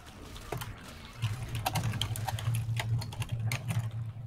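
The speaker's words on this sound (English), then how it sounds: "I hear someone typing extremely loudly." Rapid loud clacking of someone typing on a computer keyboard, a dense run of sharp key strikes over a low hum, heard alone at close range.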